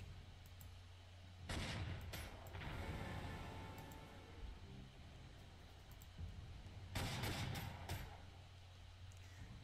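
Tank cannon fire in the World War II strategy game Panzer Corps 2, with a Czech 38T tank attacking: two faint, short blasts a few seconds apart over a quiet rumbling background.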